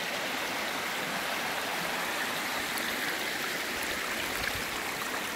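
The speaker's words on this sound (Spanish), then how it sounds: "El nacimiento de uno de los afluentes del río Avión. Aquí nace el río" Water flows at the springs where a tributary of the Avión river rises at Fuentona, an unbroken rushing hiss, steady and moderately loud, with no voices.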